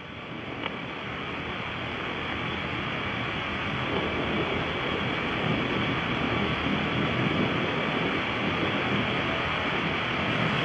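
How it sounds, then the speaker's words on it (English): Soyuz MS-05 rocket with its first and second stage engines firing in flight, a constant broad roaring rumble that holds steady and swells slightly, heard alone without voices. "Stage 1 and 2 thrusters are working nominally."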